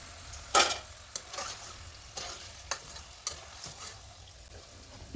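Okra fries (crispy bhindi) frying in hot oil, a faint soft sizzle broken by a few sharp clicks of a utensil against the pan, close and quiet, no speech.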